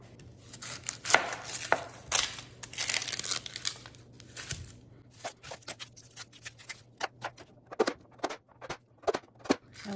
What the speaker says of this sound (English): I like to cut up a whole onion at one time